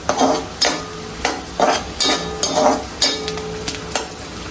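Onions and green chillies frying and browning in a pan, a steady sizzle broken by repeated stirring scrapes and soft clinks of a utensil, close and moderately loud, with no talking.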